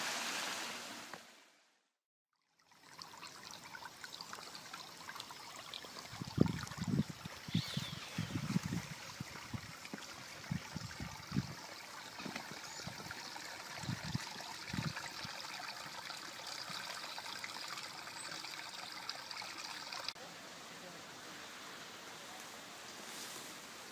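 Flowing water from a spring and a river on farmland: a steady broadband rush runs throughout after a brief gap near the start, with intermittent low knocks and splashes in the middle, moderately near.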